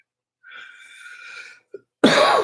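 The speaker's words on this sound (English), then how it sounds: "Man, this cough just needs to go." A harsh, wheezy breath is followed by a single loud, explosive cough up close; no one speaks.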